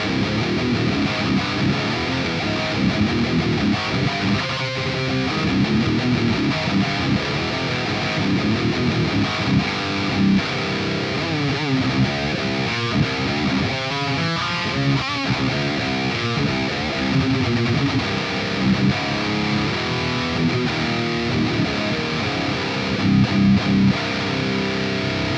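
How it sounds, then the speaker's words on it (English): Heavily distorted metal rhythm tone from a $120 electric guitar through the ML Sound Labs Amped Roots plugin, playing loud, dense power chords continuously with chugging palm-muted passages and no voice over it. "we're just gonna go ahead and start playing some power chords and see what it sounds like."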